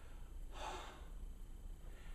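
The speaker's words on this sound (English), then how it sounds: "you just breathe out and empty the body of breath by just breathing out" A single slow exhalation, breathing out to empty the body of breath, soft and close, rising briefly and fading within about half a second against quiet room noise.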